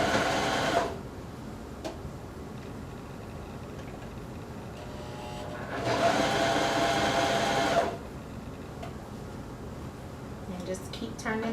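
A sewing machine stitches ruffle leggings in two short bursts of steady whirring, close and moderately loud, with quiet room noise between them.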